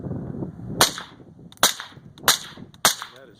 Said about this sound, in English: we're gonna give that a try with the Adams Arm piston gun with the gas port set at maximum